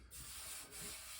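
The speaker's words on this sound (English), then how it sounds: "sanding" A Honda CB500 motorcycle fuel tank is sanded by hand in a brief, faint, continuous rubbing scrape with a slight surge midway.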